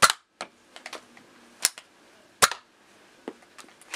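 Toy foam dart blasters being loaded with two darts and primed, giving sharp plastic clicks and clacks in an irregular series, with a few bright snaps standing out, close up and alone with no talk.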